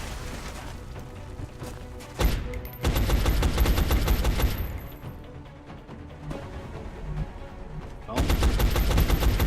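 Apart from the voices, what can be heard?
soldier firing suppressing gunfire in XCOM: Enemy Unknown video game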